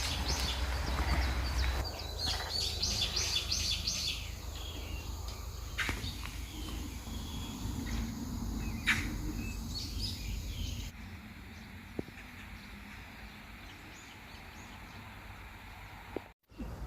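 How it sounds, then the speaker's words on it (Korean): Birds chirp and sing intermittently in the morning over a low outdoor background, fairly faint and distant, at a wetland park by a healing forest. "아침 새소리에 기분도 상쾌하다."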